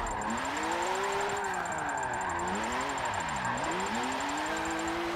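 A BMW M4 drift build in an online drifting game, its engine revving and dipping in wavering sweeps, a close, continuous whining drone with no talk.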